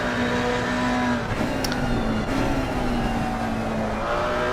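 Onboard a GT4 McLaren race car on a mountain circuit, a loud, steady engine drone holds a sustained high-revving tone with slight pitch shifts and constant road and wind noise.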